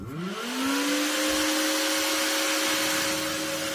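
An old switching power supply's cooling fan runs hard under load, a loud steady whir with a sustained tonal hum that rises briefly at the start and then holds constant, with no talking.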